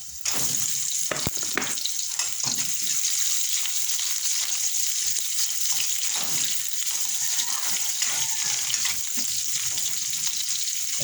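Onions hit a hot pan and fry with a sharp initial crackle, then settle into a steady, bright sizzle heard up close, with a few clinks.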